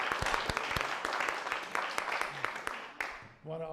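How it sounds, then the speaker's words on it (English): A round of applause at a town selectboard meeting: steady clapping from a seated crowd fills the room for about three seconds, then fades as a voice begins speaking. "Round of applause."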